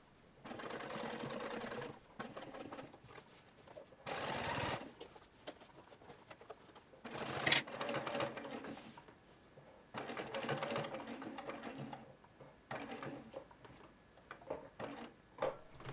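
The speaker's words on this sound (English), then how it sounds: "I'll use my stitch compensating tool to get me around the corner." A sewing machine stitches a shirtwaister dress around a corner in short bursts of whirring, separated by pauses and brief clicks as the fabric is turned, close and moderately loud.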